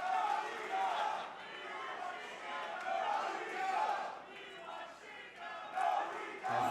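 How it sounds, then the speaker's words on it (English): A wrestling crowd in Philadelphia chants in steady rhythmic waves, loud and reverberant through the arena, with cheering swelling and dipping across the stretch. "crowd chanting for a little bit of Shingo"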